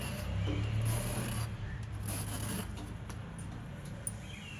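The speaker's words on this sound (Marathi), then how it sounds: "दुधी किसून साल काढून घेते आणि मग किसून घेते।" Bottle gourd being grated on a kitchen grater, a steady close rasping scrape that runs continuously with a slight swell early on, with no voices.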